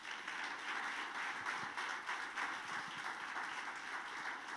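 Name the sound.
congregation applauding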